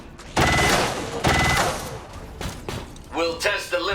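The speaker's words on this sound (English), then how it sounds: "can now use Julian to fire on the turret" Gunfire in XCOM 2 aimed at a turret: two loud bursts of rapid automatic fire about a second apart, followed by heavy thuds and impacts, then a brief electronic whine as the shots land.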